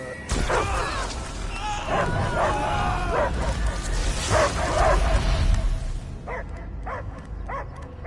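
In the Guardians of the Galaxy video game, a dog barks repeatedly in sharp, loud yelps over a rumbling, crashing backdrop, with a few quieter barks near the end as the din fades.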